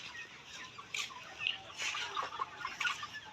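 Soft, scattered clucking from several caged layer pullets on a farm, a steady low murmur of fowl with brief louder bursts.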